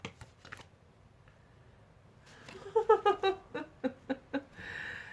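Deck of tarot cards handled close by, a soft rustle giving way to a run of crisp riffling snaps and several sharp separate flicks, ending in a brief smooth slide.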